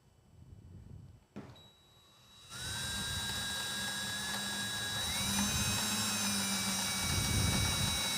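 A power drill boring shallow holes into wood, whining up after a short pause and running steadily for several seconds with a pitch rise midway, close and loud with no talk.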